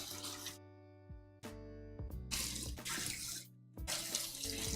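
Hot water runs from a kitchen tap to thaw frozen food, gushing in bursts that stop and restart several times, close and steady while flowing, with brief silent pauses between.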